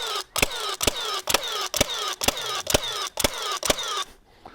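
A Ridgid 15 gauge nailer drives nails through a 1x3 into a 2x4, giving about nine sharp, loud, evenly spaced cracks over a steady mechanical hum.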